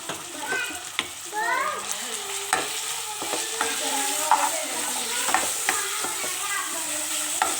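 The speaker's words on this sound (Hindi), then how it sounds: "ये मैंने चिकन को कर लेना अच्छे तरीके से फ्राई।" Boneless chicken marinated in chili sauce, soy sauce, black pepper and salt frying in a pan, giving a steady sizzle with stirring scrapes throughout while a voice and someone talk in the background.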